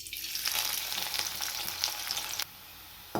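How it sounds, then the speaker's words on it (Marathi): Sliced onions sizzling steadily in hot oil for chicken biryani, a dense, close frying hiss that drops abruptly near the end, then briefly returns. "आता शिल्लक राहिलेला कांदा सर्व मी असा तळून घेणार आहे."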